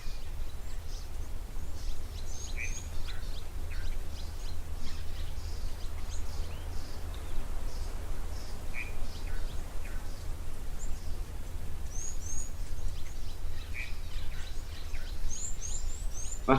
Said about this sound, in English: I want to be listening to some bird calls